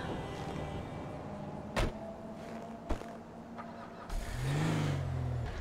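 A car drives in GTA 5, its engine a quiet steady hum with a couple of sharp clicks, then the engine swells and revs more loudly toward the end.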